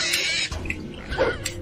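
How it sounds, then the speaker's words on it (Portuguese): A pig enemy in the video game Maximo: Ghosts to Glory lets out short, harsh grunts and squeals over busy game sound effects, lasting just over a second. "Esse porco aí."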